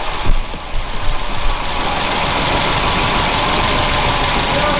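A car engine, just back from front end repair, runs at a steady, loud, raised idle with a rough, buzzing rumble that holds constant for a few seconds after a brief uneven start.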